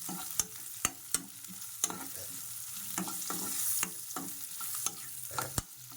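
Onions with turmeric frying in a pan for Bombay chutney, a steady close sizzle broken by sharp clacks of a spatula stirring against the pan at irregular intervals.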